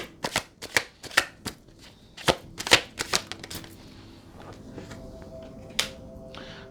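Tarot cards riffle-shuffled in a rapid series of crisp, close snapping bursts, then a quieter stretch with a faint steady hum and one last flick near the end.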